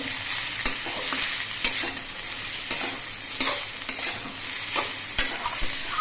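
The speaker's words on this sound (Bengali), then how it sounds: "এবার সব কিছু দিয়ে নেড়ে চেড়ে মিশিয়ে নিতে হবে" A frying mixture with salt, slit green chilies and turmeric gets stirred in a pan: continuous close sizzling punctuated by repeated sharp scrapes and clinks of the spatula, no speech.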